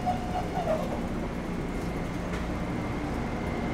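A commuter train pulls into its last stop at Croton-on-Hudson. A low, steady rumble of rolling rail cars carries a few brief brake squeals at the start, with no voices.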